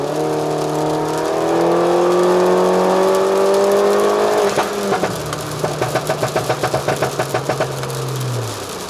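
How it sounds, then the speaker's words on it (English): A turbocharged car accelerates hard in third gear, engine note climbing steadily and loudly, then a shift or lift-off followed by rapid fluttering pulses as the revs drop; no talk. "I'm gonna go ahead, take it to third gear, and open it up"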